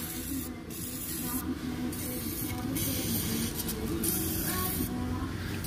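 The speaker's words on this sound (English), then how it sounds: "right now I'm using WD because my fluid film is too cold and it won't spray out of the god darn can" A WD-40 spray can hisses in several bursts of spraying over a steady background rumble, close and fairly loud, with short pauses between the sprays.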